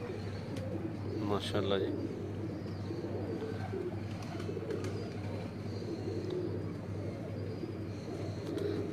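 Pigeons coo softly on a rooftop in Gujrat, Pakistan, in the background over a steady low hum while someone speaks briefly.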